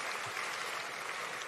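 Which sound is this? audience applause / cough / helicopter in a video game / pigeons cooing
audience applause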